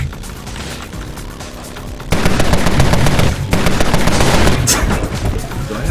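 Rapid AK-47 automatic fire in a video game, with dense, continuous bursts of shots that grow louder and heavier partway through, along with booming impacts.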